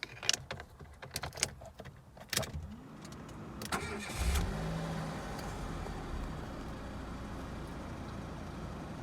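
A salvage-rebuilt car's engine cranks and catches after a few clicks and clunks, then settles into a steady, even idle nearby.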